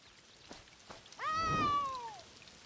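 A cat in a video game gives a single drawn-out meow, loud and near, following a few faint taps against a quiet rainy backdrop.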